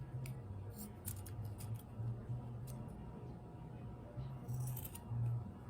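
Scissors snip through paper, cutting out a triangle for a craft hat: a quiet run of small, irregular crisp clicks and snips sounds close but faint, with a soft background hum and no talking.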